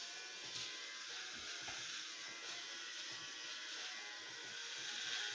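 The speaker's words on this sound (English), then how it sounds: "I'm just going to keep my head shaved." A steady electric razor buzzes close by throughout while a head is shaved, a continuous mechanical hum with slight rises and dips as it moves over the scalp.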